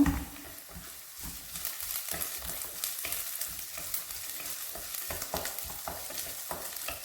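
Tamarind roasting dry in a pan and being turned over, giving close scraping and stirring strokes in an irregular rhythm over a steady faint sizzle, with no talking.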